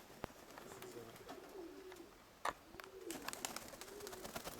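Young pigeons coo softly in repeated low, rolling calls, mixed with scattered clicks, flutters and rustling nearby.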